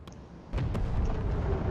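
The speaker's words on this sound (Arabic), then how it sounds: "انفجر انفجر انفجر البركان." A volcano erupts during a Fortnite live event, a deep rumbling explosion that starts abruptly after a few faint pops and holds as a heavy, sustained low roar.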